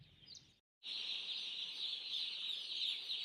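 A large flock of chickens on a poultry farm gives off a dense, continuous high chirping and clucking chorus that starts abruptly after a brief silence and stays steady and fairly loud.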